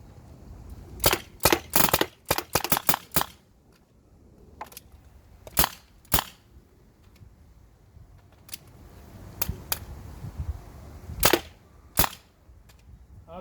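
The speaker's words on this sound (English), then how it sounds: "so we're going to shoot a few more rounds." Tippmann TMC paintball gun firing, sharp cracking pops in quick bursts and single shots spread across the stretch, loud and close with pauses between.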